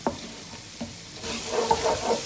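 Spice masala frying in a pot for Pathani namkeen gosht before the mutton goes in, with soft sizzling and a few scraping stirs that grow busier toward the end, close and moderately quiet.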